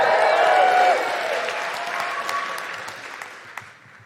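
Loud audience cheering and applause with a few whoops, strong at first and then gradually thinning out and fading over a few seconds.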